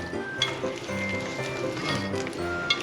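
A spoon stirs Christmas cake batter thinned with a little milk, giving a soft, wet scraping and churning sound with a couple of light clicks against the bowl.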